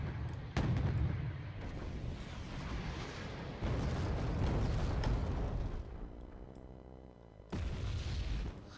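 Mortar fire in the strategy video game Wargame Red Dragon, with deep booming blasts and rumbling detonations in sustained bursts, the loud low impacts separated by brief quieter gaps; no talk.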